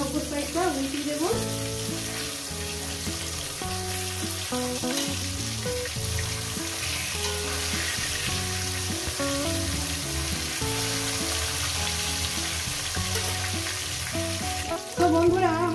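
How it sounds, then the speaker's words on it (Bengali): Gurjali fish sizzle steadily in hot oil in a pan, a loud, continuous, close frying hiss that lasts throughout with no talking. "তো বন্ধুরা, আমার মাছগুলো ভাজা হয়ে গেছে,"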